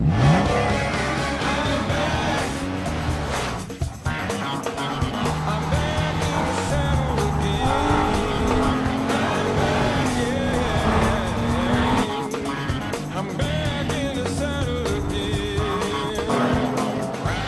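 Engine roar and screeching tire squeal from a 300-horsepower Nissan Maxima in a TV ad, loud and continuous with revving swells and skids, a voice speaking over it.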